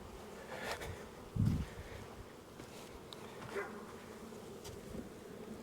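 Honey bees buzz inside a hive box, a soft, continuous hum with a few louder passes of individual bees close by.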